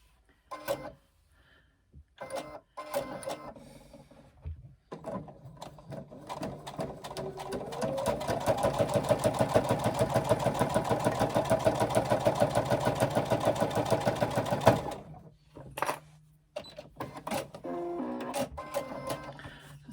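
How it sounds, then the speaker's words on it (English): Sewing machine running a basting stitch across the top of a handbag pocket, a steady rapid mechanical whir lasting about ten seconds with short stops and starts around it, close and fairly loud. "I'm going to actually do a basting stitch across the top of this pocket to hold it in"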